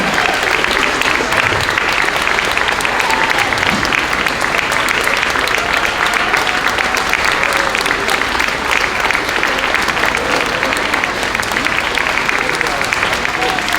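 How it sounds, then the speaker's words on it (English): Sustained applause from a crowd at a third and fourth grade school concert, steady and continuous clapping throughout with no pauses, fairly loud and close. "you have to keep the applause going"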